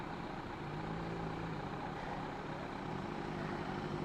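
A Kawasaki Z900 motorcycle idles with a steady, even engine drone throughout, at moderate level and without other sounds.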